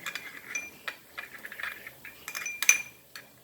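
A utensil clinking against a dish while prawns are mixed with spices and ginger garlic paste for a Goan fry, giving soft irregular scrapes and light metallic taps close by.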